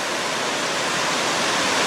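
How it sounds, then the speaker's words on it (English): Waugh Creek Falls, near a trail along a railway in the Goldstream area, gives a dense, unbroken rushing roar, close and loud, with nothing else over it. "I'm just near Waugh Creek Falls, which are up on my left, and the creek is right up here."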